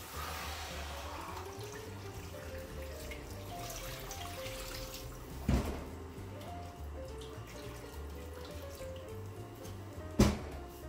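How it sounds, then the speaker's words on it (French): Water is poured into a pot over vegetables and poultry for a white poultry stock, a soft continuous splashing and trickling, with two brief louder knocks against the pot. "les légumes, le poivre, et on va recouvrir d'eau"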